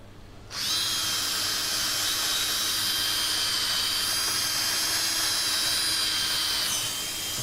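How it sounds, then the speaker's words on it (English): A sanding disc on a spinning power tool works the inside of an oak burr bowl at 400 grit during woodturning, a loud steady high whine that starts abruptly and holds close and constant throughout. "Keep as much of the disc in contact with the wood as you can"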